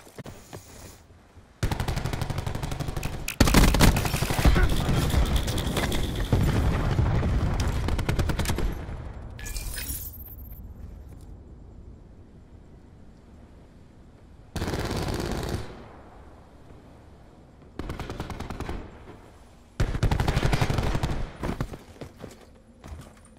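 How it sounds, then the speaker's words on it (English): Bursts of automatic gunfire in a Search and Destroy match of a shooter video game, some long sustained rattling strings and some shorter loud volleys, separated by quieter gaps. "Why you keep fucking shooting?"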